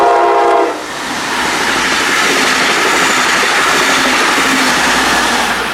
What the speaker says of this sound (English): The trains kept coming.